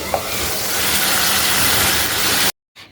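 Beef tripe sizzling and frying in a pan as it is stirred and sautéed, a loud, steady broadband hiss lasting about two and a half seconds before cutting off abruptly, with no talking.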